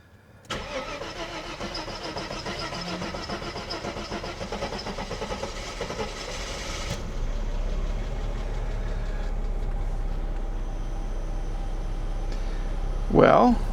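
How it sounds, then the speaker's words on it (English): A cheap old Mercedes coupe, once a barn find, cranks and fires up, then settles into a steady idle that carries on loud and close, with a person talking over the running engine. "The car will try to start, and best case scenario, it runs great."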